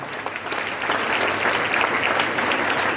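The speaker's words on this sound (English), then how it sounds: "So we also can clap our hands for" A college audience at a B.A. English third-year stage event claps for the class performers, with full, continuous applause that swells slightly and holds strong to the end.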